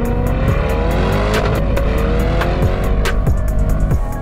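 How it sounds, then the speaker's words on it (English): A C8 Corvette engine in track mode roars loudly and steadily, revving with a harsh, aggressive tone and sharp crackles as the double-clutch transmission changes gears, close by with no talking. "when you put the car into its sport mode or track mode, everything comes to life. It's really loud."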